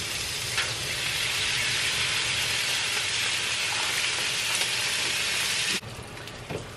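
Two thick strips of Wright's bacon fry on a Blackstone griddle, giving a continuous close hissing sizzle that stays even throughout and drops slightly near the end, with no voices.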